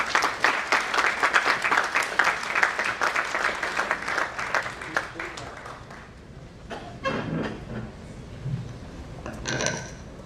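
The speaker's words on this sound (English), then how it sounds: "with a huge and a thundering round of applause" Loud, thundering applause from a conference audience at a rural futures event welcomes a speaker, dense clapping for about six seconds before fading to a softer, scattered patter and room murmur.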